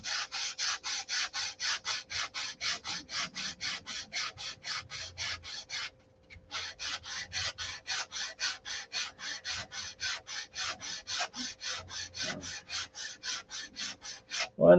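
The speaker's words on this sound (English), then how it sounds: "I just get the sanding block and sand her to shape." A sanding block rubbed over a part being shaped by hand, in steady rhythmic back-and-forth rasping strokes up close, about thirty strokes with a brief pause near the middle, no talk.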